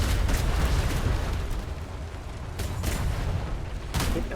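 Cannons roar in a Royal Navy roleplay game, a dense, rumbling barrage of deep booms with several sharper blasts standing out, loud and continuous throughout.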